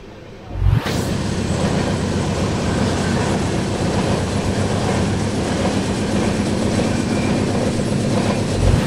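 The Balaji Express passenger train rolls into Birdanagar Junction station, a loud, steady rumble of wagons and clattering wheels sustained throughout after a brief sharp onset, with no voices.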